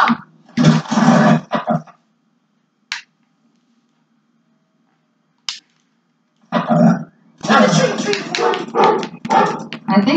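Dog barking in the video game Life is Strange, loud bursts of barks at the start and again near the end, with brief sharp sounds in between and faint background hum.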